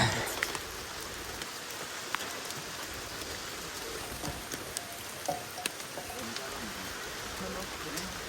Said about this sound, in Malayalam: നല്ല മഴയാണ് ഗൈസ്, ആകെ നനഞ്ഞ് കുളിച്ചു.